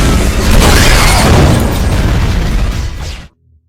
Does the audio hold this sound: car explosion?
yes